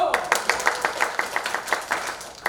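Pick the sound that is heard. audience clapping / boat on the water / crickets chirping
audience clapping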